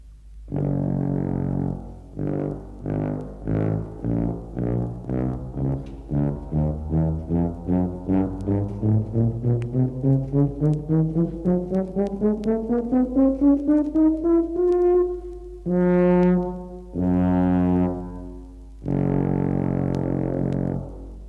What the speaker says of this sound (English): The tuba is a large brass instrument with valves.